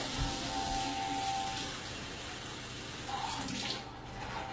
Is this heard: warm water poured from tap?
yes